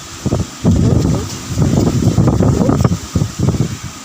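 Strong wind gusts roar steadily over the microphone for several seconds, loud and close, rising and falling in rough bursts with no talking.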